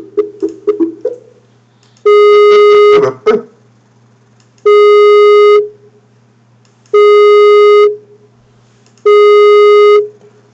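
Telephone line tones sound as an outgoing call is placed: a few quick dial beeps, then four loud, evenly spaced ringback tones of about a second each, separated by silent gaps.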